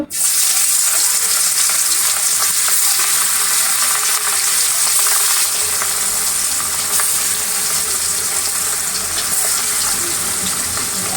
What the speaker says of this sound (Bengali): এতো তেল গরম হয়ে গিয়েছে এখন আমি মাছ ভেজে নিব